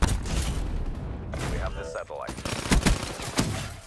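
Rapid gunfire in Black Ops 3, sharp repeated shots and bursts throughout, fairly close and loud, with a player talking over the shooting.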